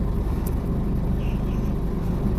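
A lorry's engine runs steadily and close by as the truck creeps forward in drive to uncouple its trailer, a continuous low rumble with no talking.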